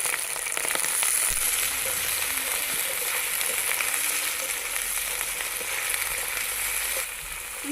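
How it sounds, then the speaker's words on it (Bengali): Cauliflower florets and cut potatoes frying together in hot oil, a dense, steady sizzle close up that carries on without pause, with no talking. "তেল গরম হয়ে গেছে আমি ফুলকপিগুলো ভেজে নেব"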